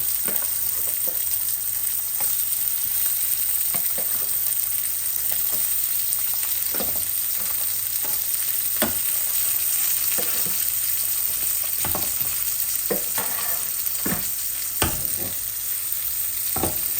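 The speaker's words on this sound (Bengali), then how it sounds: "এই মাছ ভাজাটা আস্তে আস্তে হোক, আমি রসুন দিয়ে দিচ্ছি" Two pieces of hilsa fish fry steadily in hot oil, a continuous close sizzle with occasional crackles and stirring scrapes, no voices.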